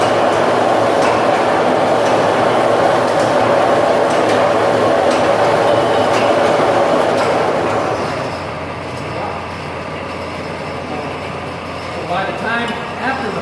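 A pop bottling machine at Polly's Pop grabs and mixes pop bottles with a loud, continuous clattering mechanical roar and glassy clinks, easing to a quieter rumble partway through.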